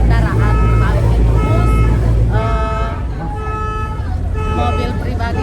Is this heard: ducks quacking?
no